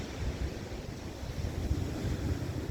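Sea swell rolls onto Hastings beach on a calm day, a continuous low wash of surf mixed with wind buffeting the microphone.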